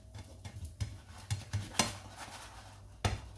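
A pancake being flipped with a spoon in a frying pan: a few soft, sporadic metallic scrapes and taps against the pan over a faint low background, quiet and close.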